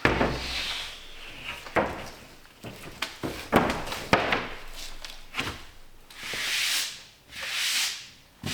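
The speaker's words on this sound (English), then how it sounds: "So I'll machine those down in the sander, taking down to that final 3mm thickness." Rough scraping and rubbing strokes of a sander working plywood veneers down to a thin final thickness in a boat-building shop, irregular passes with two long louder swells near the end.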